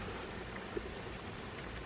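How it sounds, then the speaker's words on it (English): Steady rain falls with a dense, even hiss, drops pattering on surfaces throughout, fairly quiet and continuous. "I never thought that I'd be in love with the rain like this"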